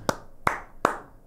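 Ethan claps his hands three times at an even, unhurried pace, each clap a sharp close crack with a short ring after it, and no voices in between.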